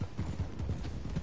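Horse hooves clip-clop steadily in the Red Dead Online video game, a quick rhythmic trot of dull thuds at close range in a small village setting in New Austin.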